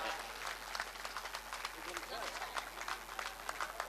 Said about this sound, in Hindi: आप तालियों की गूंज शामिल करके ये यकीन दिलाइए